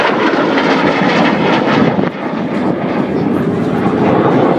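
A military jet accelerates at the RAAF Williamtown air show, a loud, dense, continuous roar that swells slightly and holds steady throughout, with no voices.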